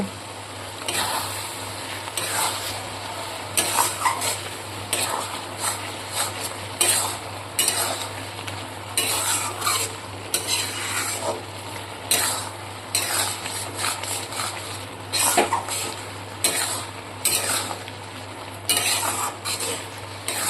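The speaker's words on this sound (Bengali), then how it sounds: "ধনিয়া পাতাটা দেওয়ার পরে আমি আরও কিছুক্ষণ নেড়ে চেড়ে নেব।" Thickened curry with chopped coriander leaves being stirred in a pan as it dries and releases oil, a long run of close, irregular spatula scrapes and clinks over a low frying sizzle, without speech.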